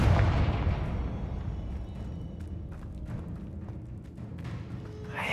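A Confringo fire spell explodes in Hogwarts Legacy, a heavy booming blast up front that rumbles and fades into a sustained low roar, with no one talking.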